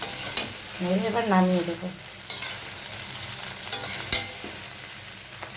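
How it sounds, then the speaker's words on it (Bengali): Egg chow mein being stirred in a frying pan, with repeated scraping and a steady sizzle close up, joined for a moment by a woman's brief spoken line. "দিয়ে এটাকে ভালো করে নাড়বো"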